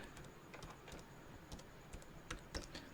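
Keystrokes on a computer keyboard, a quiet run of irregular clicks with a few sharper taps, heard alone with no talking.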